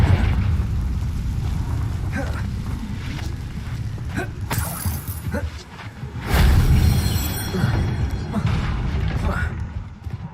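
Confringo fire spell blasts from Hogwarts Legacy bring several booming, crackling bursts with low rumble. A louder blast lands near the middle, amid steady game background noise and a voice.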